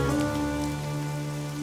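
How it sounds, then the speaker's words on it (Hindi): Heavy rain falls in an animated My Little Pony scene as a steady, dense hiss that lasts throughout, layered with sustained tonal music. "बहुत तेज बारिश है।"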